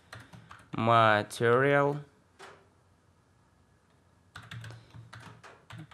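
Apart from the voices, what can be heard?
typing code on a computer keyboard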